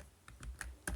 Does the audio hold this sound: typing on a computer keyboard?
yes